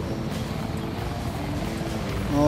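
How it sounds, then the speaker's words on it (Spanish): A helicopter in the video game Battlefield 3 drones steadily with a low rotor rumble, loud and continuous through the battle with no talk over it. "¿Es el helicóptero? El helicóptero la está haciendo toda."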